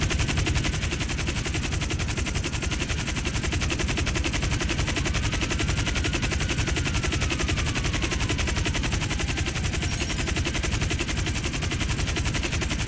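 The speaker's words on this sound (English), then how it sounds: "They're shooting." Rapid, continuous automatic gunfire in GTA 5 Online rattles on without a break, dense and loud throughout, as security guards open fire; no voices can be heard.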